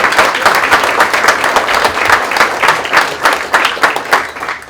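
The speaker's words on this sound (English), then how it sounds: "Can we have a round of applause for Mr. Heffernan?" Audience at an academic all-star breakfast gives a round of applause, close and fairly loud clapping with distinct individual claps pulsing unevenly throughout.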